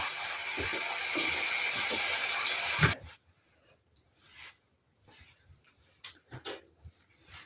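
Loud steady rush of running tap water while something is scrubbed with a small brush in the kitchen during meat roll preparation, then the flow stops, leaving scattered soft scrapes, clinks and handling noises.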